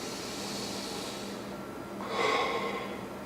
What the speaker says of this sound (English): Taking in a deep breath.